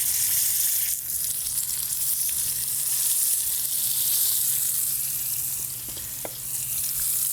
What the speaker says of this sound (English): Steaks go in.